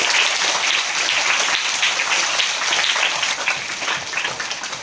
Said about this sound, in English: Give them a big applause, all yourselves.